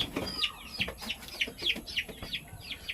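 A chicken clucking and chirping in a quick repeated series of short calls, fairly close and moderately loud, with faint background noise and no talk.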